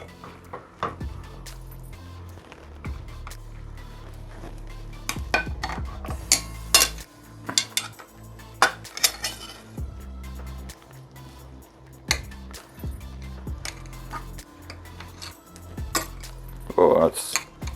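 A metal utensil scrapes and clinks against a pan while cooked meat for stuffed peppers is scooped out, giving irregular close clatters and scrapes spread through the clip.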